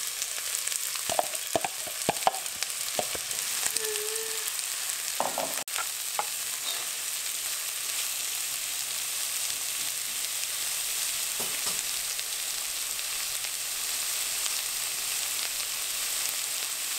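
Onion frying in olive oil, with steady broadband sizzling throughout, a few stirring clinks and scrapes near the start, moderately loud and close with no voices.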